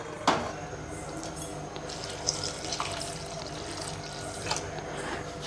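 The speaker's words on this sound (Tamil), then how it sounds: "இப்போ இது கூட நம்ம பால் சேர்த்துக்கலாம்." Milk is poured into hot cooked rice in a kitchen for milk rice, giving a soft, steady watery pouring and splashing with a few faint clinks of a vessel throughout.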